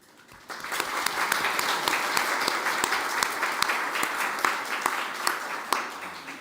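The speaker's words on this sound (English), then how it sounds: "And I would like a round of applause for all women here" An audience at a climate justice event applauds the women present, a steady round of clapping that swells after a quiet start and holds with sharp individual claps standing out.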